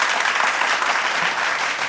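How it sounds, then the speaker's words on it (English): Canned applause plays to welcome a guest onto an interview show, a steady, dense wash of clapping that holds at an even level from start to finish with no voices over it. "That's actually the first time I've ever used canned applause to welcome a guest."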